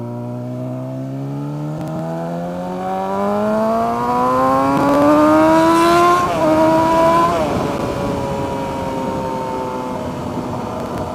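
A car engine revs up in a long rising sweep, then falls back as the exhaust pops and crackles, loud and close with no voices.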